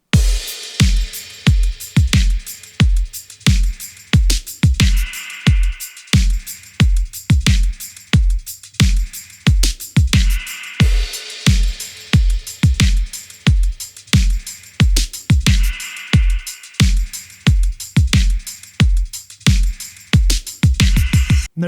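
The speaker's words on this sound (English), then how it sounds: "the groove to go against that bass line sounds like this" A busy drum groove with dense sixteenth-note patterns and sharp hits plays alongside a deep bass line, with loud, evenly spaced beats driving steadily throughout with no talking.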